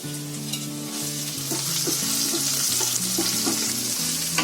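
Cut green chillies, including a mild large stuffing chilli, fry and get stirred in a pan for onion-free veg paneer bhurji, a loud steady sizzle with spatula scrapes under background music.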